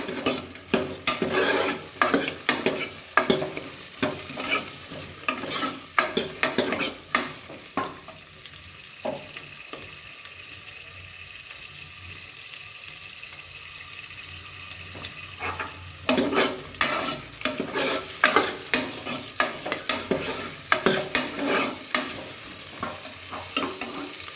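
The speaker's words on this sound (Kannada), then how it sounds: "ಇದು ಸ್ವಲ್ಪ ಚೆನ್ನಾಗಿ ಫ್ರೈ ಆಗಲಿ." Vegetables fry in a pan with a steady sizzle, broken by bursts of rhythmic stirring and scraping at the start and end and a quieter stretch of plain sizzling in the middle, close up and without voices.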